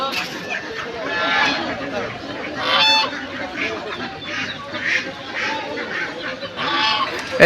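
Domestic geese at a poultry market honk in repeated bursts over a busy murmur of crowd chatter, with a speaking voice close by.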